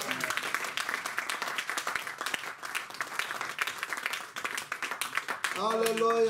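A church congregation claps and applauds steadily for several seconds, dense and close, with a voice and musical tones rising near the end.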